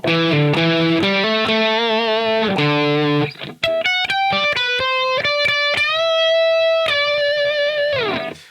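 Distorted electric guitar with the pickup switch down playing a melodic lead line, first with sustained bends and then with quick picked notes, loud and up close, no speech.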